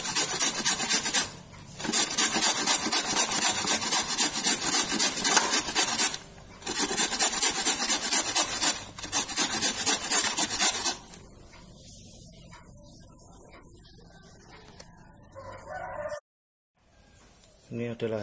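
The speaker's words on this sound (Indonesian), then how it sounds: "Pertama-tama kita parut dulu wortelnya." Carrots scrape against a kitchen grater in long, loud, continuous rasping bursts with brief breaks between them. The grating stops partway through, leaving quieter handling sounds and faint background noise.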